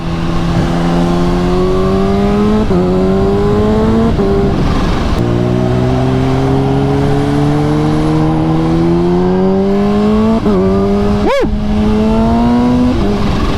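A supercharged Kawasaki Ninja H2 motorcycle accelerating hard on the street, its loud engine note climbing in pitch through a gear with a brief dip at the shift, then pulling up again, close-up and continuous, no talk.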